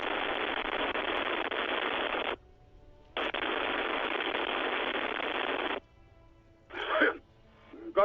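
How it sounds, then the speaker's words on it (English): Radio static from the video game Disco Elysium plays as two long hissing bursts separated by a short gap, followed by a brief crackle, loud and clear with no talk. "Her voices fade out into the familiar radio static."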